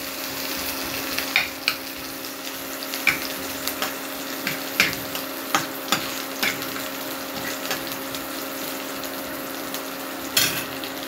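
Onions sizzling in a pan while a river-fish curry is cooked, with a steady frying hiss broken by regular soft stirring scrapes and clinks, close and moderately loud, with no voices.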